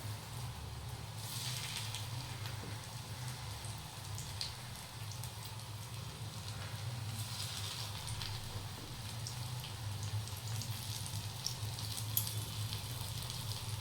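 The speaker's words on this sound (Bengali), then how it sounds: "এইরকমভাবে পকোড়াগুলোকে লো টু মিডিয়াম আঁচে ভেজে নিতে হবে।" Pakoras deep fry in oil over a low to medium flame, producing a steady, soft crackling hiss with scattered pops and spits all the way through, fairly faint and close, and no voices.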